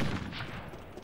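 Gunfire in the online shooter Combat Arms, a dense, loud burst of shots packed into about a second with no voices over it.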